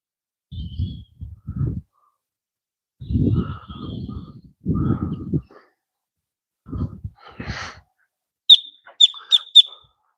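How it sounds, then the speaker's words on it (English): A blackbird near a waterside spot with pelicans gives several harsh, low, caw-like calls in separate bursts, then ends with a quick run of four sharp, high chirps, loud and fairly close with quiet gaps between. "There's the blackbird."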